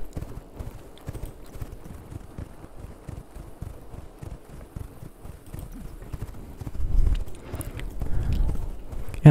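Horse hooves clip-clop at a steady walking pace in The Sims 4, moderately loud and close with no talk over them, growing a bit heavier toward the end.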